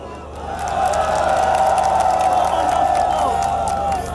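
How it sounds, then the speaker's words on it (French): A crowd at an FNDC protest demonstration applauds and cheers in a dense, sustained wash of noise that swells early and holds steady at close range for several seconds. "À chaque prise de parole, des applaudissements en signe d'adhésion."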